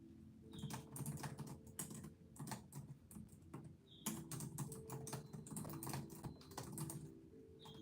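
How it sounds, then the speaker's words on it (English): Rapid clicking keystrokes on a computer keyboard pour out in uneven bursts and short pauses, close and moderately loud, with no voices over them. "So I'm going to type that in the chat."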